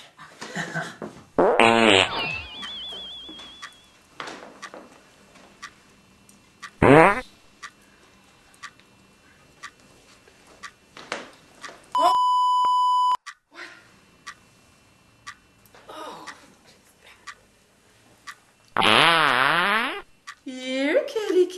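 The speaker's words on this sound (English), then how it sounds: "You squeeze it once to suck in your fart, and then again to blast it anywhere you want." A toy fart flinger blasts a loud, wet, drawn-out fart sound, with shorter squeaky bursts, an electronic beep, and people talking between the noises.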